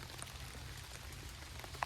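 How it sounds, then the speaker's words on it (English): Rain falls steadily on a camping tarp on a cold day on Blake Island, a faint, even patter of drops with no talking. "But the rain is coming down"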